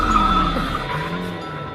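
A car's tires screech in a sustained skid over engine rumble before hitting someone, fading slightly toward the end; no voices are heard.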